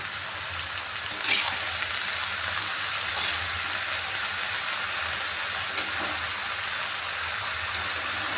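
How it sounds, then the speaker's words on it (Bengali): Bitter gourd (karela) slices fry in oil in a pan, giving a steady, dense sizzle that carries on evenly throughout with a couple of faint clicks and no talking. "করলা ভাজা হচ্ছে এখন দেখুন কীভাবে ভাজছি"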